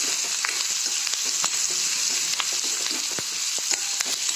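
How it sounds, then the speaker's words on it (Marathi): Onion and grated coconut roasting in a pan give a steady, close sizzle with scattered sharp crackles and pops throughout. "आता हे चांगला कांदा भाजून घ्यायचा ह्याच्यामध्ये थोडं आणि थोडं खोबरं टाकायचं ते पण भाजून घ्यायचं"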